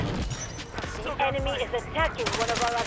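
Gunfire and explosive bursts from a Delta Force multiplayer match, loud rapid shots layered with game effects while a player talks throughout.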